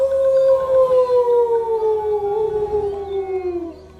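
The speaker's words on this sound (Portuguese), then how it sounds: "Logo, o lobo grande, peludo, com garras e presas imensas, pela primeira vez, uivou para a lua." A cartoon werewolf from Brazilian folklore in Turma da Mônica howls at the moon: one long, loud, smooth howl that slowly falls in pitch before cutting off, heard alone.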